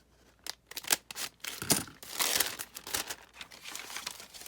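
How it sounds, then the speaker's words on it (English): Paper being cut with scissors for a pocket in a no-sew accordion-spine junk journal made from scraps, with close, irregular snips and crinkling rustles of the sheet alone. "Just cut on the line."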